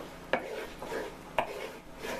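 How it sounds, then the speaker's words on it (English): Flour being mixed by hand into garlic bread dough in a bowl, two sharp knocks against the bowl between soft rhythmic scraping and stirring, close and fairly quiet. "just mix in that flour."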